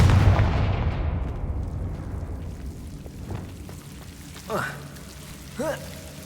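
A Confringo fire-blast spell in Hogwarts Legacy opens with a loud booming burst that fades into a crackling tail, followed by a few fainter pops and whooshing magical effects.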